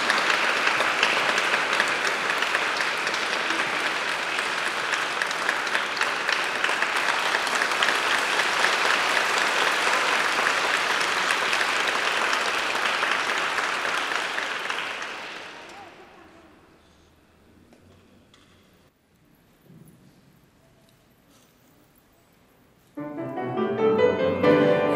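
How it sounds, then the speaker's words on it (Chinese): An audience in a church applauds loudly and steadily to welcome a children's choir, a dense sustained clapping that fades out after about fifteen seconds, then near silence before other sound returns at the end. "我们接下来我们就用热烈的掌声欢迎马彼得校长指挥的台湾原声童声合唱团"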